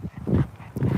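A dog outdoors gives two short bursts of low whimpering, whining vocalisation, close and moderately loud, with a quieter gap between them.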